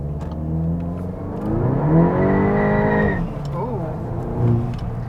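A tuned VW MK8 GTI with an ECU tune pulls hard through second gear, its engine note climbing loud and close for about three seconds before dropping and settling into a lower whir.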